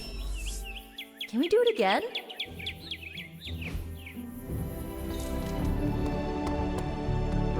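Chirping birds in the Marvel's Midnight Suns video game, a busy mix of quick, high tweets and trills repeating over an ambient game backdrop, with a brief voice speaking partway through.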